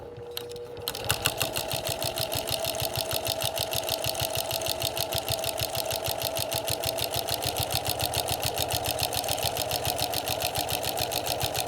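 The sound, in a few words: sewing machine with walking foot stitching quilt seam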